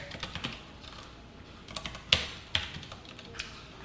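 Typing code on a computer keyboard, soft irregular key clicks with a couple of sharper taps, quiet and close, with no talking.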